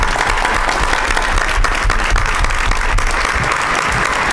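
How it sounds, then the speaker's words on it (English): Sustained audience applause for the MedKit act at an Incubator show, a loud dense wash of clapping that holds steady throughout with no pauses. "Another round of applause for MedKit."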